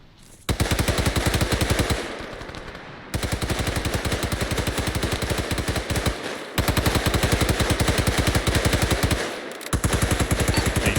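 Heavy, sustained machine-gun fire in the video game Arma 3 rattles loud and close in long continuous bursts, broken by a few brief pauses.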